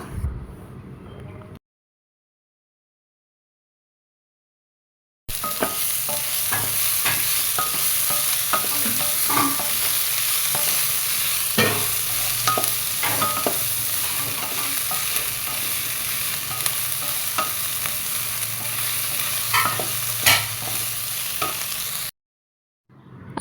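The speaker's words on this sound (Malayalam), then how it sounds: "ഇതിൻ്റെ പച്ചമണമൊക്കെ മാറുന്നത് വരെ നന്നായി വഴറ്റിയെടുക്കണം" Green chilies and curry leaves sauté in a pan with a continuous, close sizzle and frequent scraping stirs. The sound drops out completely for a few seconds near the start and again at the very end.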